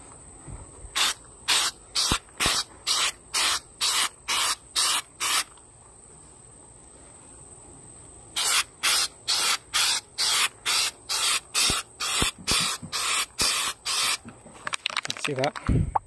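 Aerosol spray paint hisses in two series of short bursts, roughly ten in each, as light coats go onto a fuel filler hose for an 1989 Cherokee, with a brief messy sputter at the end.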